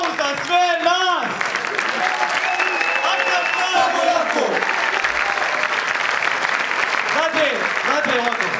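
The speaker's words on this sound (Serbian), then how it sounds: "ajmo jedan aplauz za sve nas!" Audience applause at a political rally, a loud sustained wash of clapping from a large crowd with cheers mixed in, running steadily through the whole stretch.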